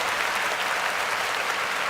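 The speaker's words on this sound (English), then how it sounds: "You guys deserve a round of applause" Steady, even applause from a crowd, thanking participants at the end of a 49ers football preview show, sustained clapping with no voices over it.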